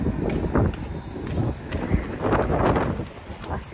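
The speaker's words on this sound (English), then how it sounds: "I know, it's so windy outside." Strong wind blows outdoors, buffeting the microphone with a steady roaring rush and gusty swells, close and fairly loud, with no talking.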